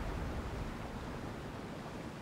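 A river runs in small currents over rock slabs, a steady broadband rushing that stays even and moderately close for the whole moment.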